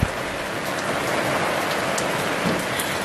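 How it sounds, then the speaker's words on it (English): Heavy rain pours steadily on a spring day in Norway, a dense, even hiss of drops drumming on surfaces, close and continuous with no talking. "So much rain."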